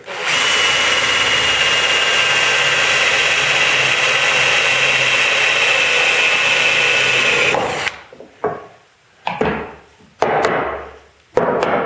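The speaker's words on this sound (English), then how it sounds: "So what I'm going to do is I'm going to drill a hole." A power drill runs steadily and loudly for about eight seconds, boring a 5/16 hole straight through wood while building a woodworking vise, then stops, followed by a few short bursts of scraping and handling noise.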